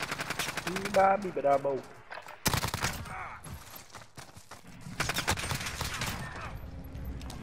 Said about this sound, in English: I'm still shooting him after he died